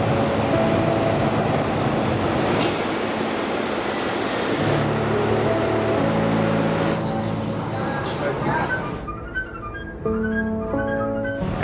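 A Rio de Janeiro metro train rides from Ipanema to the Carioca station downtown, a steady loud roar of wheels and motors with a rising whine, then braking squeals and slowing hum near the end.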